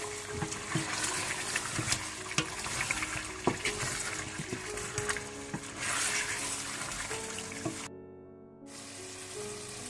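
Chicken frying in a pan for achari murgh, a steady close sizzle broken by scraping stirs and clinks, with a brief drop in sound near the end.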